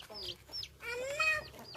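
A chicken clucks close by on a quiet Sunday morning in a garden, giving a few short calls and then a longer, rising run of clucks.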